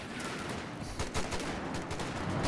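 Machine gun fire in a Company of Heroes 2 two-versus-two match: faint, rapid automatic bursts crackle steadily through a dense battle din, with sharper shots poking out.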